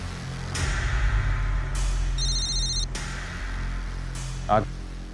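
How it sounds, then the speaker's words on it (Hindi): A telephone rings in a drama scene, a steady electronic ringtone tone sounding for about a second amid background noise and brief voice-like sounds. "नायल को फोन मिला।"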